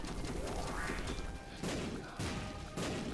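Explosions go off in The Binding of Isaac: Rebirth, with several sharp, loud blasts at irregular intervals over a busy game background.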